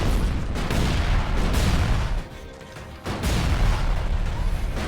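In the video game ELEX II, a loud, dense roar of explosion noise rumbles at close range. It drops away briefly for about a second, then returns just as heavy.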